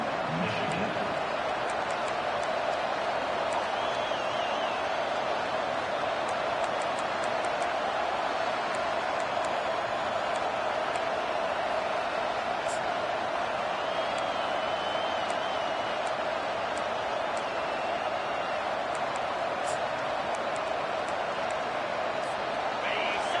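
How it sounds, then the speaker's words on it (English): Dense, steady roar of a large stadium crowd at an American football game, continuous and loud throughout, with a commentator talking over it. "This crowd bringing the energy and noise early."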